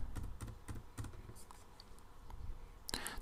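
Keys clatter on a computer keyboard as a zip code is entered on a tax form, a run of quick separate clicks close by, then a pause and a final louder burst of keystrokes.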